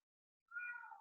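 A single short cat meow sounds close and clear after a moment of silence, a brief rising then falling cry.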